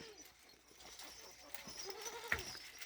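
Goats in a closed shed on a goat farm in Parbhani bleat while jostling and fighting over feed. Short, scattered calls come and go over a low barn hum, with one louder cry near the end.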